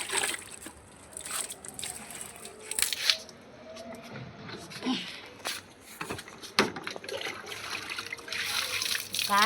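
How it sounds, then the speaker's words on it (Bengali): Garden plants being watered in the evening, with soft intermittent trickling and splashing close by, interspersed with faint rustles and a few sharper clicks. "এই যে দেখো জল দিচ্ছি।"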